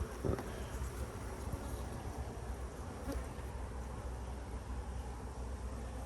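Honey bees hum steadily inside an apiary beehive box in a cow pasture, a dense continuous buzz close to the microphone with no pauses.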